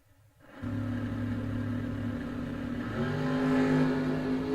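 Dragster and roadster launching side by side at a Stone Jug championship bracket drag race, a loud steady engine roar that climbs and grows louder partway through, with no voices.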